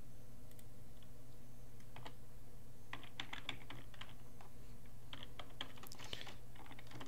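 Keys on a computer keyboard clatter in uneven bursts as a file name is typed in, close and fairly quiet, with short pauses between the runs of keystrokes and a steady low hum underneath.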